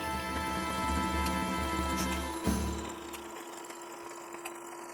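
A Brother Project Runway limited edition Innovis 40 sewing machine runs steadily with a fast, even stitching whir for about three seconds, then stops, leaving a quiet room.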